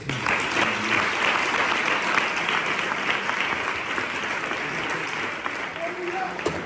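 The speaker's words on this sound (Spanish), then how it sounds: "Un fuerte el aplauso" A congregation at a church Bible-study gathering gives a strong round of applause, dense sustained clapping that fills the whole stretch and tapers slightly near the end.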